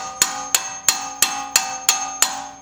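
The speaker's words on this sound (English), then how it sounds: "hard taps just to torque it down" Seven evenly spaced, sharp metallic taps strike a brake caliper piston tool while front brake pads are replaced on a Honda Civic; each blow rings briefly and the taps are close and loud.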